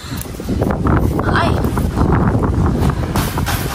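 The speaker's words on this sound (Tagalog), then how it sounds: "grabe po kalakas ng hangin." Strong wind roars steadily into the microphone, a dense low rumble that never lets up, with a voice talking beneath it.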